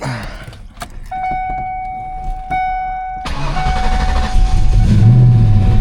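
A car with a tubular K-member and 5-lug setup cranks after a chime sounds, then its engine catches and settles into a loud, close rumble, with clicks and key jingles early on.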